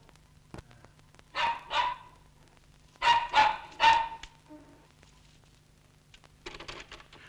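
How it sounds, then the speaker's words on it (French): A dog barks in short bursts: two barks, a pause, then a quick run of three, with a fainter yap near the end, all fairly close in an otherwise quiet room. "Fais taire ton chien."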